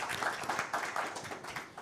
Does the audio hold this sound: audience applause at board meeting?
yes